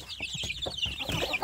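Free-range Indonesian village chicks cluck and cheep in quick, high, overlapping calls, close and fairly loud over a brief stretch, with no talk.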